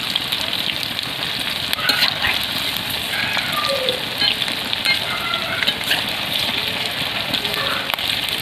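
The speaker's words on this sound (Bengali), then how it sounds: "এভাবে উল্টে পাল্টে ভেজে নেব।" Palm-fruit gulgula fritters deep-fry in hot oil, a dense, steady sizzle with fine crackling and occasional bubbling pops, close and continuous.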